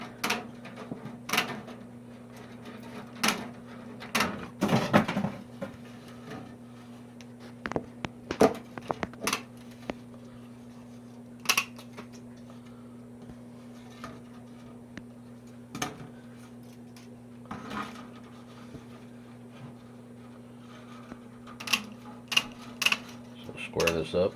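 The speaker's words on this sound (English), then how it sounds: "Just a pair of tin snips. I'll cut through this stuff pretty easy." Tin snips cut through material for a plant propagation box, giving sharp irregular clacks and snips spread across a quiet workshop over a low steady hum.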